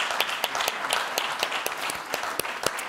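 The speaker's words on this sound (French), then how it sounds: "On peut l'applaudir." Sparse applause from a forum audience honoring an architect, a modest number of individual claps sounding in an uneven rhythm through the whole stretch.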